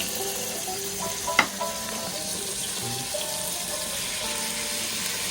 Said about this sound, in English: Tomato, we have to cut it into wedges only. And then we have to add it in our pan.